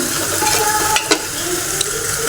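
Ginger garlic paste, pounded in a stone mortar, sautés in a pan while being stirred; a steady close sizzle runs throughout with a couple of sharp spoon scrapes against the pan.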